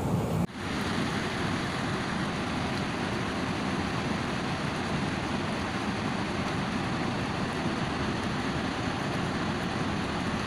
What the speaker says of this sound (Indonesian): di atas sana masih ada aliran yang cukup lumayan deras